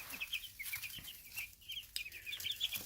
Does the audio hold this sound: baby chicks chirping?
yes